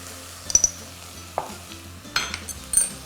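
Chunks of lamb browning in a hot pan give a quiet, steady sizzle, with a few sharper clinks and stirring scrapes from a utensil scattered across it.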